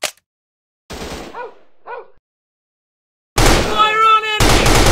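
Loud, dense weapon fire from the Commando Run mobile shooter game erupts near the end in a sustained rattling burst, after a sharp opening shot and brief voiced callouts separated by silence.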